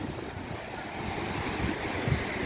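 Kukdi Khapa waterfall rushing beside a river near a railway line, a constant roaring water hiss mixed with wind buffeting the microphone, steady and close.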